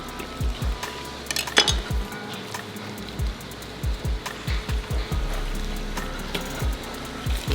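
Onions being stirred in a hot pan for caramelized onion butter: a utensil knocks and scrapes against the pan in irregular clinks, over a faint, steady sizzle and with no talking.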